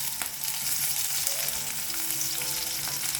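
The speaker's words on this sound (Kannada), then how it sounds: "ಇದನ್ನೊಂದು ಸ್ವಲ್ಪ ಹಸಿ ವಾಸನೆ ಹೋಗೋ ತನಕ ಹುರ್ಕೊಳ್ಳೋಣ" Garlic, asafoetida and curry leaves fry in hot oil, giving a steady close sizzle with a few faint crackles for the whole stretch and no talking.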